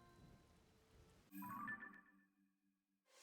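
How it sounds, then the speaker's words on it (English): Thunder and rain in The Legend of Zelda: Tears of the Kingdom: a sudden loud rumbling thunderclap bursts in after soft patter, then fades away, with a faint crackle at the end. "And it's thundering over here,"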